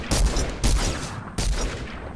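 Rapid bursts of video game gunfire, three loud volleys of automatic shots in quick succession, close and dense with no talking.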